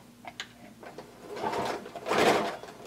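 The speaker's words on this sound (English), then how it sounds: "now we're going to sew in one continuous seam" A sewing machine runs a continuous seam on a blanket coat, starting at the sleeve: a short quiet start with a few clicks, then two swelling bursts of steady mechanical whirring, close and fairly loud, with no talk.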